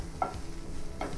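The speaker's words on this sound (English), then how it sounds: "We have to cook the palak until it gets more darkened green." Palak (spinach) cooking in a pan over a low flame, with a soft steady sizzle and two brief scraping stir sounds, quiet and close.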